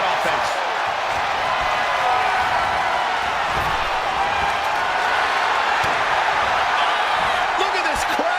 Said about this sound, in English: Look at this crowd. It's insanity in here. Bedlam.